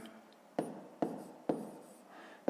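Pen scratching across paper while writing out a fifth-grade math exercise, in soft continuous strokes broken by a few sharp taps as the pen is lifted and set down, close and quiet.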